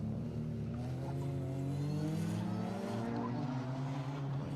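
An R53 Mini rally car idles and revs near the start line at Anglesey Circuit during a stage rally, a steady, throaty engine drone with rising and falling pitch, close and continuous throughout.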